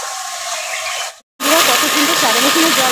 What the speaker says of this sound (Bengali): কত সুন্দর সারাদিনে জল পড়ছে